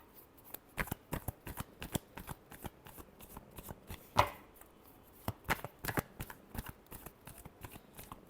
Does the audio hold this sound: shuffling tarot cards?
yes